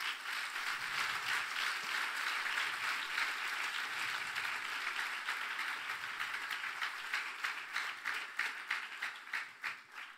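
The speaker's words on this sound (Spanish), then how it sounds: "¿Cuánto le dan un aplauso al Señor?" A church congregation applauds with a dense, sustained wash of clapping that slowly thins out into looser, distinct claps near the end, heard at a distance without any speech.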